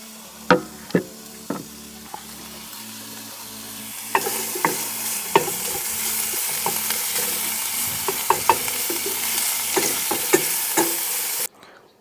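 Scrambled eggs and bacon fry in a pan at an outdoor wild camp, with a steady sizzle that swells after a few seconds. Sharp spatula knocks and scrapes against the pan recur throughout, over a low hum, before cutting off abruptly near the end.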